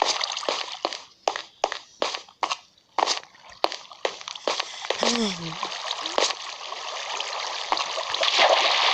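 Minecraft water flowing and splashing, with a string of sharp clicks and splashes that give way to a steady rushing stream while a voice talks intermittently.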